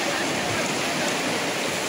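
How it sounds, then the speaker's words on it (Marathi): Forceful river water rushing at high level, a dense, continuous roar close by filling the whole moment without letup. "पाहू शकता पाण्याची पातळी पाहू शकता तुम्ही किती जोरात येत आहे"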